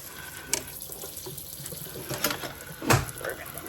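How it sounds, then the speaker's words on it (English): Tap water runs over dry beans being rinsed in a kitchen sink, a steady soft splashing with a few sharper spatters and a louder splash near the end, no voices. "Okay, we are rinsing our beans."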